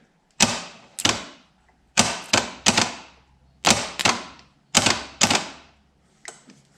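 A car starter motor on the bench, its solenoid bridged with a metal screwdriver, clacks in sharp metallic bursts, mostly in pairs or threes, each one snapping loud and close and then ringing briefly before quiet returns.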